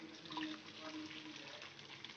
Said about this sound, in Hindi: अब मैं इसमें फटा हुआ छेना डाल दूंगी,